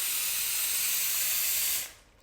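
A Laurastar IGGI handheld steamer blasts high-speed dry microfine steam in a loud, steady hiss, close up, before cutting off abruptly near the end, with no voices.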